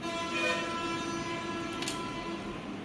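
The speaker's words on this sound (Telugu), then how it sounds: "నా వాయిస్ కంటే ఎక్కువ మీకు వెహికల్ హార్న్స్ ఎక్కువ వినబడుతుంటాయి కదా" Vehicle horns in street traffic: sustained, layered horn tones blare steadily throughout over a constant background roar of traffic.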